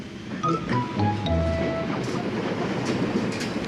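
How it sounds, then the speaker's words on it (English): A train rumbles past with rhythmic clacking over the rails, a loud continuous mechanical roar with a brief high whistle-like tone early on. "Here, stop that train!"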